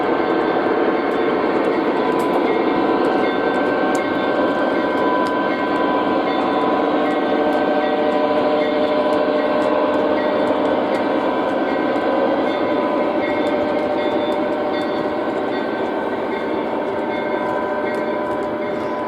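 An O gauge model train crossing over from main 1 to main 2 rumbles steadily and loudly throughout, a continuous close rolling hum with a faint rhythmic ticking of wheels over the track joints, and no voices.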